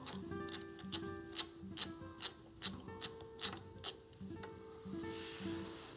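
A hand wrench loosens a bolt while a bicycle bottom bracket is removed, giving a quick series of metallic ratcheting clicks, close and fairly faint, over a low background hum.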